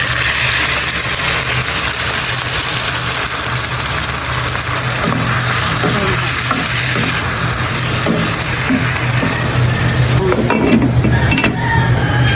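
Marinated pork sizzles and crackles steadily in a pan with onions and garlic, a continuous loud frying hiss with some stirring clatter near the end.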